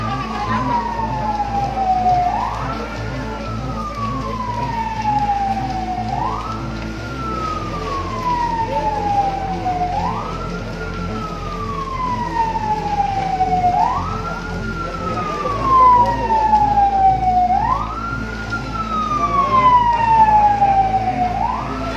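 Fire engine siren wailing at a burning motorcycle workshop and boarding house in Soabali, Ambon, rising and falling in steady repeated sweeps about every four seconds, loud and fairly near over a rumbling engine and crowd noise.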